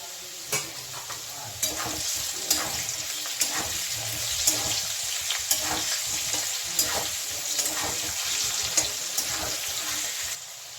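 Potatoes fry in oil with salt and turmeric, a constant close sizzle punctuated by regular scraping stirs roughly every second.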